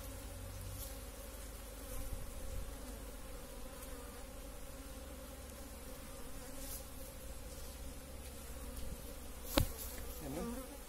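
Honeybees buzz steadily inside an opened two-storey hive during an early spring inspection after winter, a dense continuous hum close by, with one brief sharp knock near the end.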